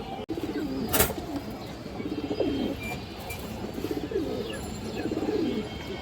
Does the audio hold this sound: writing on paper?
no